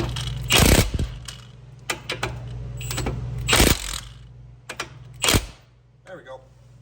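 A wrench tightens the castle nut on a Ford Edge outer tie rod, giving a handful of sharp metallic clicks spread out at uneven intervals while someone talks.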